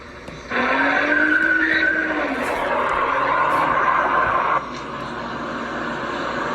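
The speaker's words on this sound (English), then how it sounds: "the robber actually got into the car and drove away down Roosevelt Boulevard" Surveillance-camera recording of a carjacking getaway car speeding off down Roosevelt Boulevard, tires skidding and squealing in a loud, sustained screech with engine roar that drops off after about four seconds.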